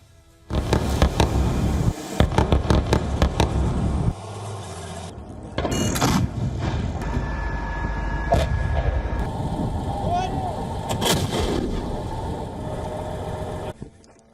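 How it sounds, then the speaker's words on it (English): Sharp bursts of gunfire crack loudly through a gunfight in a hospital compound, dense volleys early on giving way to scattered shots over a rumbling background, with voices faintly heard amid the chaos. "The clip shows soldiers in the hospital compound engaged in gunfights."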